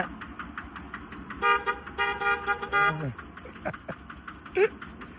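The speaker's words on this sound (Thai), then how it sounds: "ถอยรอบหนึ่งบีบแตร" A homemade motocross vehicle's horn sounds two loud, close honks in quick succession, the second longer, with people talking before and after.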